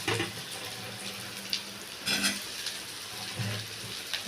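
Pieces of goat spleen dropped into a hot pan of sautéed onions give a steady, close frying hiss with brief bursts of louder sizzling and faint clatter, no talk.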